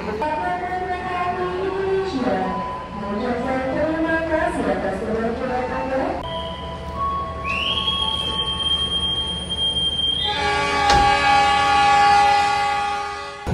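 The Kutojaya Selatan economy train pulling out of a station, wheels squealing in rising and falling pitches, then a long, steady horn blast, loud and nearby, with voices faintly underneath.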